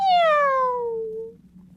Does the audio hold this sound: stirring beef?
no